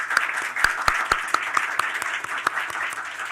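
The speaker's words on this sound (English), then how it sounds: "Please join me in giving our panelists a warm round of applause." A conference audience applauds panelists at an energy cooperation forum, a steady round of clapping with sharp individual claps standing out close by over a dense wash of hands.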